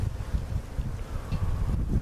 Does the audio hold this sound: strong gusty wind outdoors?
yes